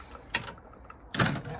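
Ratchet turning a 10mm bolt on a 2016 Ford Edge alternator, two short, quiet clicking bursts a moment apart in a quiet setting.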